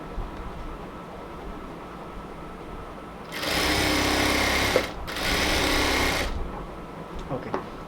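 A sewing machine runs in two bursts, one long and one shorter with a brief pause between, as it stitches beside the elastic on a salwar. The motor whirs loudly over a quiet room with faint clicks afterward.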